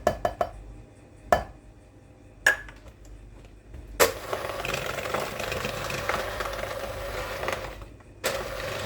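Electric mixer running on low, mixing strawberry powder into cookie dough, preceded by several sharp clinks against the bowl, then a steady mechanical whir for a few seconds that is cut by another knock.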